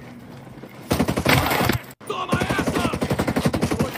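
Rapid gunfire in a sniper shooter video game, heard as dense repeated shots in two loud volleys with a brief break between them, and a voice shouting over the shooting.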